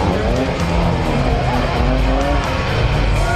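A Gullwing Mercedes built on a Roadster Shop chassis drives out of an auto show, its engine a loud, steady roar mixed with crowd and street noise.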